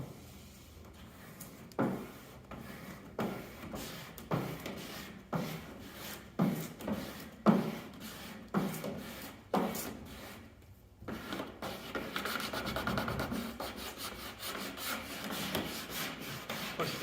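Squeegee pushed across vinyl graphics on a truck door, a series of close, dry rubbing swipes in repeated strokes, then a longer continuous scraping pass toward the end, without speech.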